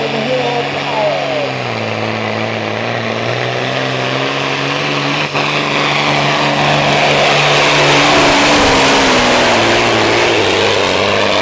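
A Ford tractor's engine roars and climbs in pitch as it revs during a tractor pull in Melbourne, Ontario, loud and continuous, with an announcer's voice carrying over it.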